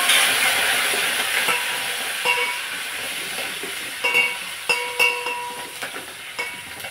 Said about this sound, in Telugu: నేను పప్పుచారు తాలింపు పెట్టేస్తున్నాను